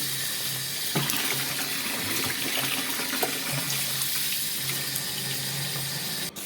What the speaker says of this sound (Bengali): এই রান্না করতে করতে আমি জল ভরতে চলে এসেছি